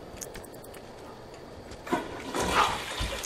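Toilet flushing in The Sims 2 game, a rushing swell of water starting about two seconds in after quiet clicks, moderately faint and with no talk over it.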